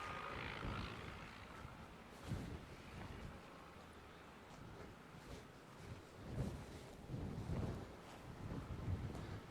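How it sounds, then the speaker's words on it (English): Strong wind buffeting the microphone outdoors at a classic car junkyard, a rough low rumble that rises in heavy gusts over a constant windy hiss, loud and close. "It is awful windy out here today."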